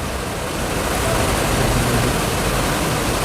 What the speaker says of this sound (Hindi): बहुत ज़्यादा तेज़ बारिश आ रही है